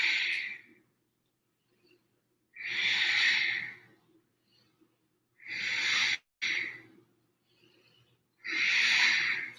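Deep breaths drawn during a plank core exercise, four long airy inhales and exhales spaced by silences, close and clear with no talking over them.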